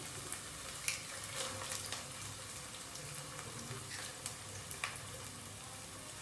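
Eggs dropped into a pan of ginger paste fry with a steady broadband sizzle and occasional soft stirring clicks, close and continuous at low level, while an egg rice dish is being made.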